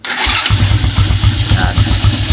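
A motorcycle engine cranks and fires up through a push-start switch wired to a Domino Honeywell switch, catching after a brief pause and settling into a loud, rapid, throbbing idle close by.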